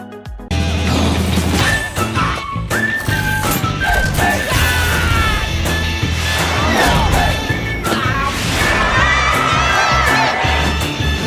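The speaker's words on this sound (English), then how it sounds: "And everyone starts screaming, wow, and Tom smiles" A cartoon crowd in Talking Tom and Friends screams and cheers wow, a loud, dense, continuous roar of many excited voices with shouts and crashes throughout.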